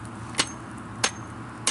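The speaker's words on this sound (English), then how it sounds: "to drive my pole into the ground" The back of a steel axe head drives a pole into the ground as a hammer, three sharp, evenly spaced blows outdoors over a low background hum.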